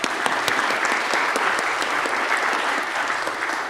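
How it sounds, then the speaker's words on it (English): An audience applauds the panel members at the close of a discussion on state elections for military and overseas voters: dense, steady clapping from many hands, loud and unbroken throughout, with no talking over it. "how about a round of applause for them?"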